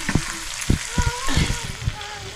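Boiled potatoes stirred into fried masala in a hot pan, a sizzling bed of frying broken by several scraping, thudding stirs of the spoon, loud and close, with no speech.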